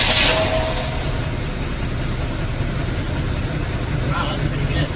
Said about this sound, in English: We're gonna see if it can start idling smoothly.